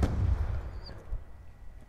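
A KSG shotgun fires in the Black Ops 2 video game. A single loud, close blast comes at the start, followed by a low, rumbling tail that fades over the next second or so.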